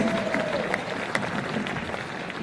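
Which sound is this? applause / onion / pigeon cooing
applause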